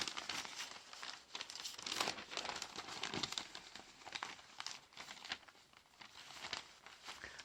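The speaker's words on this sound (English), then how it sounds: "So then fold both pieces over." Paper napkin being folded for a Christmas table, soft continuous crinkling and rustling with small crisp crackles, close but faint.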